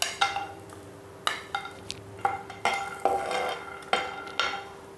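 Two spoonfuls of peanuts tipped into a pan, a series of close clattering knocks and rattles of hard kernels and a metal spoon against the pan, irregular and fairly loud, with no talk.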